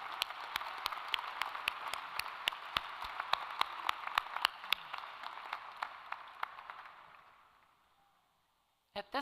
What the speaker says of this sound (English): join me in a round of applause, recognizing your loved ones for their support